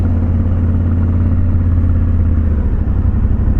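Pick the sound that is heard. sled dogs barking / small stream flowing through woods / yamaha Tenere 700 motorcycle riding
yamaha Tenere 700 motorcycle riding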